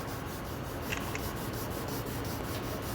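Fine 2000-grit sandpaper lightly rubbed by hand over fresh factory paint on a brand-new Porsche, a steady soft scratchy hiss with faint back-and-forth strokes, close and continuous.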